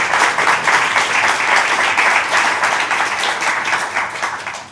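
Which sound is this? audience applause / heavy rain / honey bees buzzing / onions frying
audience applause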